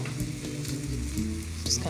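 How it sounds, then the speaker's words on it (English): Roughly chopped kale goes into a hot pan and sizzles, producing a close, crackling hiss with spattering pops over a low background hum. "Okay, so we have about 4 cups of kale, just like rough chop, add to that pan."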